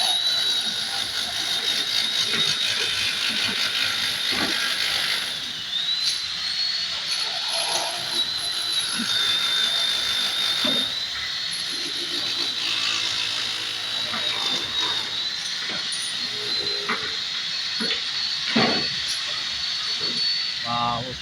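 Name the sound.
chipping concrete during demolition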